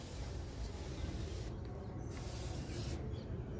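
Neem oil mixed with other ingredients is sprayed onto mealybug-infested vegetable plants in a home garden, a close, continuous hiss broken by two short pauses.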